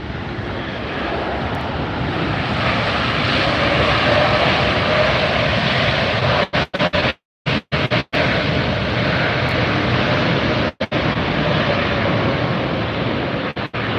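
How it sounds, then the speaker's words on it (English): A loud, continuous roar of jet airliner engines at Los Angeles Airport, including an Eva Air Boeing 777, fills the air, steady and close, briefly cutting out a few times near the middle. "How's that for the sound of engines for you? Those are loud."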